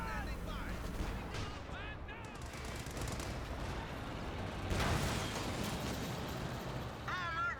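Rapid semi-automatic G43 rifle fire from Grenadier squads in the strategy game Company of Heroes 2, dense overlapping gunshots with battlefield noise, continuous across the scene under faint background sounds.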